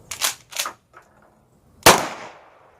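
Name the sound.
Mossberg 500 Compact Cruiser AOW firing double-aught buckshot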